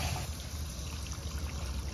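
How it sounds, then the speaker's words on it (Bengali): Water is poured into a pan of Bengali bhola fish curry spices cooking in oil, a faint, soft, continuous trickle and splash heard close and alone. "এবার দেব পরিমাণ মতো জল।"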